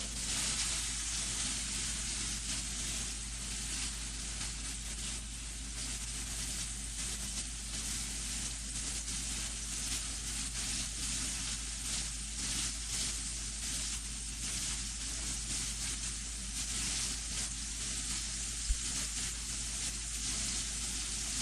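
Meat fries in a pan, a continuous, even hiss and crackle of sizzling fat that holds steady and fairly quiet throughout, without talk.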